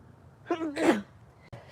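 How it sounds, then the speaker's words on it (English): A single sharp sneeze with a short voiced intake before it, close and fairly loud against a quiet room, followed by a faint rustle. "I think I have to sneeze"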